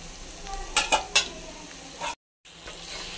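Onions sizzle in a pan as the base for a prawn bhuna, with a steady frying hiss, a few sharp stirring scrapes and clinks, and a brief dropout before the sizzle resumes.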